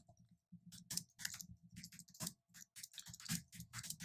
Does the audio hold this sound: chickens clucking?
no